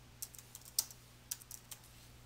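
Keys on a computer keyboard are tapped in a sparse, uneven run of light clicks, faint and close, with no voices.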